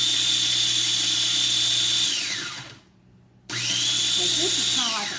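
A power grinder whines loudly and steadily while grinding down a doll, winds down to near silence, then spins back up and keeps cutting with shifting pitch.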